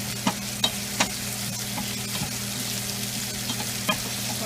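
Fenugreek seeds frying in a pan for a fish curry give a continuous sizzle, with several sharp stirring clicks and taps scattered through it, close by and without talk.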